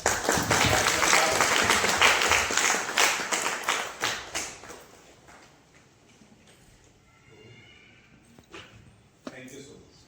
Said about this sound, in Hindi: का एक बार जोरदार ताली बजाकर